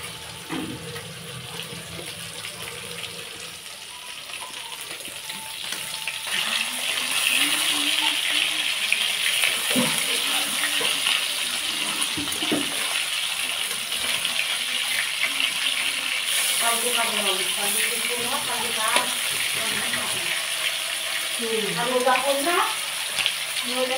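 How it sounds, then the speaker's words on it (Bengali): Fish frying in a pan on a home stove gives a steady loud sizzle and crackle, with a voice talking over it for much of the time. "এখন মাছ ভাজছি, দেখো বন্ধুরা, মাছ ভাজছি সবাইকে।"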